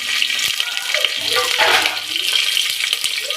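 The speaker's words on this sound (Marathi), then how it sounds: "खडा मसाला टाकूया, कढीपत्ता, आधी चिरलेली मिरची," Whole spices, curry leaves and chopped chillies crackle and sizzle loudly in hot oil for a veg biryani, a steady close-up hiss and spatter with no voices.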